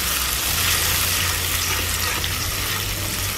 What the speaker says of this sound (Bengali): এখন ব্লেন্ড করা টমেটো এবং আদা রসুন ভালো করে কষিয়ে নিচ্ছি